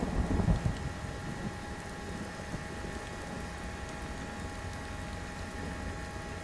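Steady rain in the Steel Beasts tank simulator, heard from an M60A3 tank at night with its engine shut off: a continuous, even hiss with a low rumble that is heavier in the first half second, and no voices.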